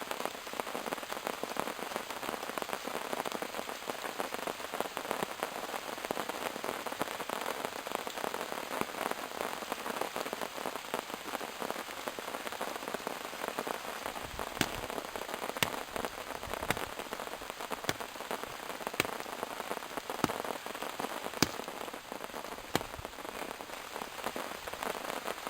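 Steady rain pours on a tarp-covered jungle camp beside a small campfire, a dense continuous hiss with occasional louder drips and crackling pops, no talking.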